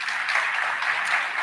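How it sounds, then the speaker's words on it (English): Brief, even applause from an audience at a college convocation, a short wash of many hands clapping with no speech over it. "So please give them another round of applause."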